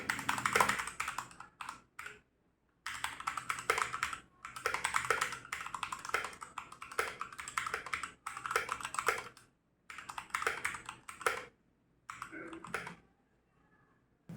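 Keys clatter steadily on a white Redragon K617 RGB compact keyboard with low spacebar rattle, close and crisp, in bursts of rapid typing broken by short pauses.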